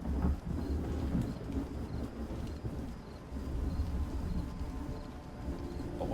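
A thunderstorm rumbles in a TV episode, with low rolling thunder and a steady wash of rain-like noise sustained throughout at a moderate, muffled level.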